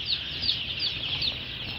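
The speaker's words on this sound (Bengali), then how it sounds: "মুরগি, সোনালী মুরগি" Sonali chickens at a poultry shop in a Khulna market, giving repeated soft, high clucks in a quick uneven rhythm over a steady background hum.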